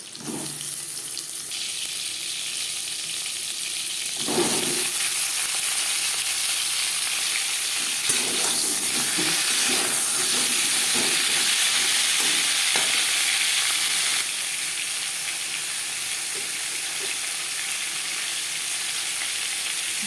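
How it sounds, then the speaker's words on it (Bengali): Halved pointed gourd (potol), partly peeled, goes into hot oil in a kadai, bursting into a loud steady sizzle with scattered pops and stirring scrapes that continue throughout. "আলু ভেজে নেওয়া কড়াইতে আবারও তেল দিয়েছি এবার দিয়ে দেবো পটল"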